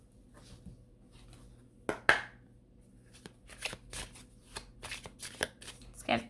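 A tarot deck is shuffled by hand in a series of crisp riffles and soft card slaps, close and fairly quiet, with a person talking between the shuffles.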